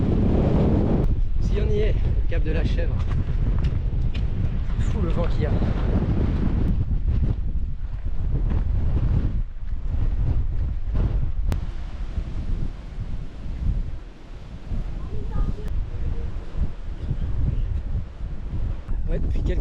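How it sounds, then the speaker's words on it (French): Strong coastal wind buffets the microphone near Cap de la Chèvre on the Crozon peninsula in Brittany, a loud, continuous roar with gusty surges along an open, treeless clifftop path, and voices talk at times over it. "C'est fou le vent qu'il y a."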